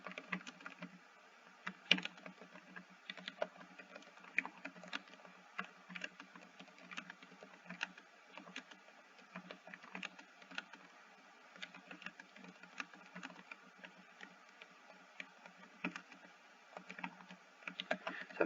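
Soft, rapid keystrokes patter on a computer keyboard as someone types, an irregular run of quiet clicks with short pauses and no talking.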